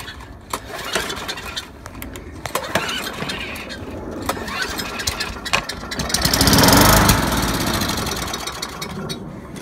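Small gravity-fed-carburetor lawn mower engine being cranked and catching, a rough rattling motor sound with irregular knocks that swells louder near the end, close by and without speech.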